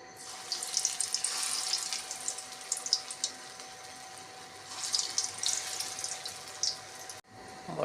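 Lentil fritters (dal bora) frying in hot oil in a wok give a steady, close bubbling sizzle with crackly bursts that runs throughout, then cuts off abruptly near the end.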